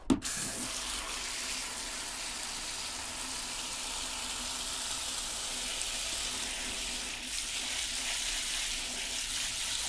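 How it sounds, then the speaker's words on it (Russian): Tap water runs steadily into a garden hose outdoors, a constant hiss and gush heard close after a sharp knock at the start. "Включу воду и распутаю шланг."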